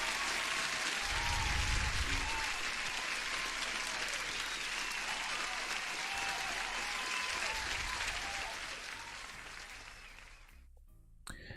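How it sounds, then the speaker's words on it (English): Steady applause from a crowd fills the scene at an even level for about eight seconds, then thins and fades toward the end. "Let me get the applause, Wyox."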